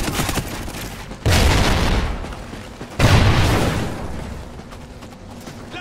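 Suppressing gunfire in the video game Call of Duty Ghosts comes as two heavy, booming bursts of automatic fire a couple of seconds apart. Each burst fades into a low rumble of battle noise.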